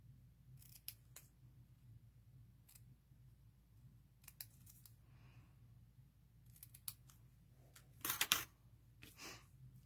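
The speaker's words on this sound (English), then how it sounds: "If I did, I'm going to cut this." Scissors cut paper in a paper-craft stamping project: a few crisp, close snips spaced out over quiet background, with a quick cluster of sharper cuts near the end.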